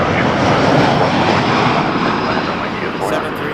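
A WestJet Boeing 737 Max 8 airliner at Toronto Pearson, a loud broadband jet engine roar close by that holds steady and eases slightly toward the end, with no talk.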